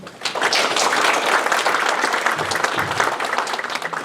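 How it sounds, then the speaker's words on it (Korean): Audience applause at a town hall meeting with a city mayor in a Sejong neighbourhood, a dense, steady burst of clapping from a crowd that stays loud for about four seconds. "다시 한번 힘찬 박수를 보내주시기 바랍니다"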